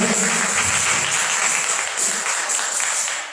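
A church congregation claps in praise during an evening service, producing a continuous, close wash of many hands striking together that stays strong before easing slightly toward the end.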